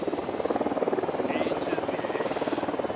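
Unidad military helicopters in the game Ghost Recon Wildlands, a steady rapid rotor chop that throbs evenly throughout, loud and near, with a voice speaking over it.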